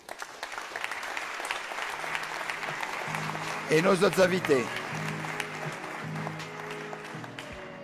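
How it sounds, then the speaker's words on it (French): Audience at a Work'Talks conference clapping steadily through the whole stretch, with a presenter speaking over the applause and a brief burst of louder clapping midway. "Vous pouvez l'applaudir"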